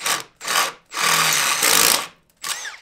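Bursts of a power drill whirring as it drills a hole in a car, starting and stopping several times with short pauses between, close and loud.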